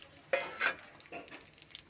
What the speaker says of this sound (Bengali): আমি ফোড়ন দেব কালো জিরে শুকনো লঙ্কার তেজপাতা ফোড়নটা দিয়ে দিলাম